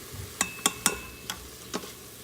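Onions sauté in an Instant Pot, with a light sizzle under several quick spoon scrapes and taps against the inner pot. Heard close and fairly quiet, with no talking.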